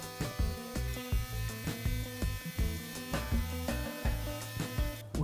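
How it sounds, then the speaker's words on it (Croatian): An immersion blender purees a cooked blueberry mixture, its motor a steady buzzing whir that pulses rhythmically as the blade churns through the thick fruit, close and fairly loud, ending with a brief clatter. "pa cijelu smijesu dobro usitniti štapnim mikserom"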